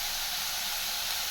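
Onion and ginger paste sautéing in a pan for a home-style potato masala: a steady, close, even sizzle and hiss that continues without a break.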